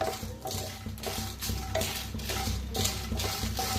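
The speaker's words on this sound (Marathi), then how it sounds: "भाजून घ्यायचंय लसूण आणि मिरची।" Garlic and green chillies dry roasting in a pan, with repeated metallic scrapes and clinks of a spoon against the pan over a faint sizzle, moderately quiet and evenly paced.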